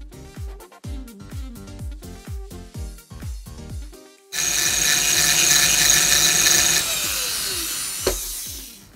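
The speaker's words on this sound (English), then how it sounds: "Let's try this drill right here." A power drill spins a cheap, dull hole punch from AliExpress to sharpen it. A run of rhythmic tonal taps comes first, then a loud, steady grinding whine sets in partway through and holds near and constant to the end.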